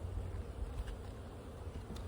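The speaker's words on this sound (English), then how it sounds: "now it's time to dump your bees in" Package honeybees being dumped into a hive, a continuous low, close buzzing hum from the mass of bees, steady and fairly quiet throughout.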